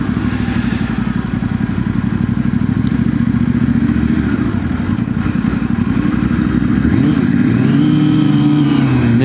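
A Suzuki SRAD sport motorcycle engine runs close with a rough, uneven low chug as it nearly stalls, then the revs climb back up near the end, loud and steady with no voices.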